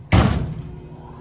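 A worn Dover hydraulic elevator door bangs shut with a single loud thud, its heavy low rumble fading into a lingering hum in a building setting.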